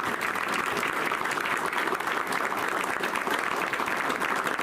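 An audience at a Hernando Board of Aldermen meeting breaks into sustained applause, a dense, even patter of many hands clapping at a steady level throughout.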